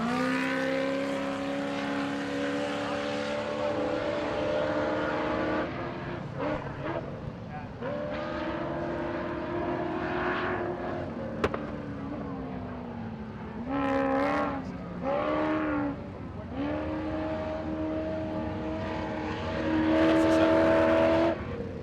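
An off-road race car tears across a desert qualifying course at King of the Hammers, engine revving and shifting in rising and falling surges, loud and near, with commentators talking over it throughout.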